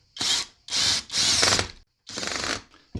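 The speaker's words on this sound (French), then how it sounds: "Et on va les visser ensemble." An old screw is driven to join two pieces of wood with a screwdriver, heard as four loud, close bursts of gritty ratcheting and grinding separated by short pauses.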